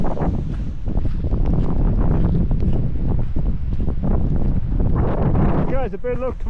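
Strong gusts batter the microphone outdoors in a storm near a ghost town, a loud, rumbling buffeting that surges and falls throughout, with a brief voice near the end.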